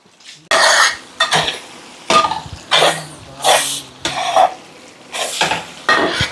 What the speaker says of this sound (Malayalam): ലമ്പാടെ ഒരു 10 മിനിറ്റ് നല്ല ഇളക്കി യോജിപ്പിക്കാം.